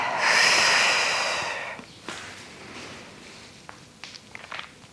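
A person exhales forcefully through the nose during a beginner Pilates exercise, a single loud breathy rush lasting over a second, followed by quiet soft shuffles and small taps.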